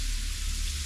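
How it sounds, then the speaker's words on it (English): Chex Mix seasoning drizzled onto a hot Blackstone griddle, a dense, steady sizzle with an even hiss throughout, close and continuous with no talk. "You can hear it sizzling."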